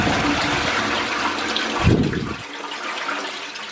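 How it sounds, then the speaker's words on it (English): A newly plumbed toilet in a Victorian house renovation flushes with a rushing gush of water that swells, then drains away and quiets into a soft refill trickle. "Did not think there would ever be a day where I'd be flushing a toilet on camera"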